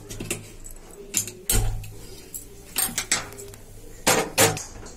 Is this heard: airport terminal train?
no